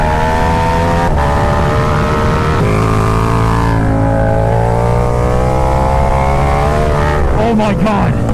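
KTM Super Duke motorcycle powering hard out of a corner on worn-out tires, its engine a loud, steady roar with rising harmonic pitch that sweeps and shifts near the end, with the rear fishtailing.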